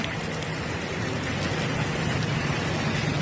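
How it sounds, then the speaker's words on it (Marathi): Heavy monsoon rain falls on a lazy rainy day, making a close, continuous broadband wash of sound with a low rumble beneath it that stays constant throughout. "बघायचं किती पाऊस पडतोय. कसला मोठा पाऊस पडतोय."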